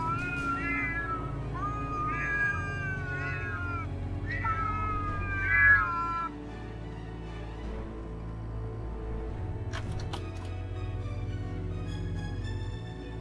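Several cats meow and yowl in long, wavering cries that rise and fall in overlapping bursts, loud and close over a steady low background rumble, then settle into quieter scattered mews.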